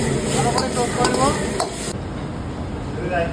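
Crispy paneer, scallions and spring onion are tossed in a hot sizzling pan, with loud close frying hiss and rhythmic scraping stirs, the sizzle dropping back partway through as tossing continues.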